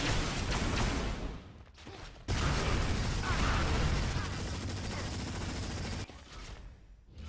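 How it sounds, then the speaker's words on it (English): Rapid minigun and stinger fire in an Unreal Tournament 4 duel on the map DM-Erase, a loud continuous stream of shots with brief gaps, with faint talk beneath. "chips away at pimpjuice with the minigun, with the stinger"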